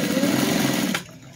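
A sewing machine stitching a shirt collar runs steadily in a close, loud, continuous whir for about a second, then stops abruptly, leaving only quiet room tone.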